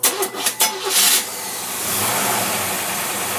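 A car engine fitted with a Holley two-barrel electric-choke carburetor cranks with several loud starter bursts, catches, then settles into a steady close idle.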